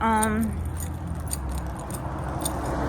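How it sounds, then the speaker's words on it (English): Keys clipped to a pair of shorts jangle and bounce with small metallic jingles that repeat irregularly while someone moves, alongside a short hum at the start and low rumbling noise underneath. "you can hear my keys bouncing"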